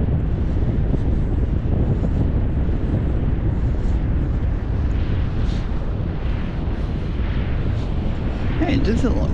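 Steady, heavy wind rumble on the Blackpool promenade buffets the microphone throughout, a constant low roar with a few brief gusty swells and bursts near the end.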